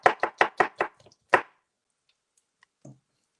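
A knife chops a halved red onion finely on a board: a quick run of six crisp, evenly spaced cuts, then a short pause, one last firm chop, and a faint thud near the end.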